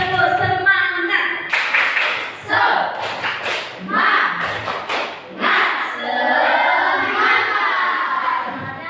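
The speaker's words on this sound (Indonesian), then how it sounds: "ayo 1, 2, 3, tepuk semangat" Schoolchildren in a classroom perform a spirit clap, bursts of clapping and shouting in short rhythmic groups between stretches of a teacher's voice, lively and close.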